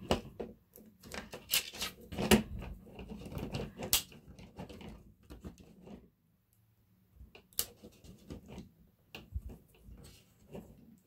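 A zip tie ratchets tight around wire hangers: clusters of close, sharp plastic clicks and rattles, some loud snaps, and a quiet pause in the middle.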